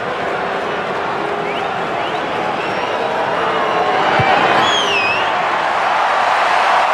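A large crowd at a 2012 rugby match between New Zealand and Australia roars steadily, building slightly in a continuous wash of cheering with scattered whistles; a commentator's voice sits faintly underneath.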